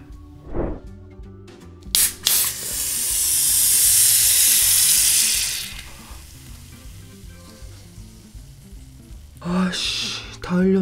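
A cola is cracked open with a sharp pop, then poured in a long, loud fizzing rush that lasts several seconds before fading, followed by a brief second burst of fizz. It happens at a close-miked mukbang table set with chicken.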